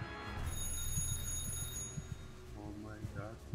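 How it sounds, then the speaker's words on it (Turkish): A telephone rings in a Stalin-themed calming game, a steady electronic trill running throughout beneath busy music and background voices. "telefon çalıyor"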